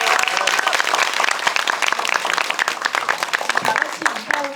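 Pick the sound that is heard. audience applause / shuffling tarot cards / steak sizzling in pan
audience applause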